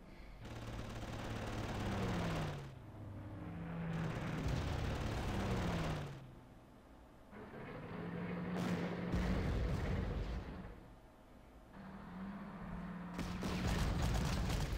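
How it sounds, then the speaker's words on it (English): Bomber attacks on the Eastern Front near Moscow in 1941, in the wargame Panzer Corps: repeated stretches of rattling, booming bombardment and gunfire, each lasting a couple of seconds, separated by brief quieter gaps. "So the bombers are doing the work here."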